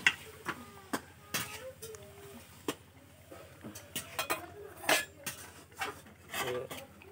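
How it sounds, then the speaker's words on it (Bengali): Potatoes being stirred in a cooking pot while a Khasi mutton dish cooks, with a spoon scraping and clacking against the metal in scattered, irregular knocks and rubs at close range. "এই দেখেন আলু দিয়ে নাড়াচাড়া করলাম।"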